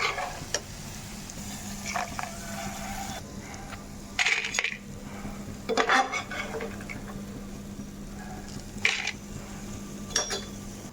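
Utensils clink and scrape against a pan as fried minapa vadiyalu (lentil fritters) are lifted out, with a few sharp metallic knocks over a faint low hum and light sizzle.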